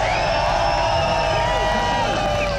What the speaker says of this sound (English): letting all this lot cheer for you again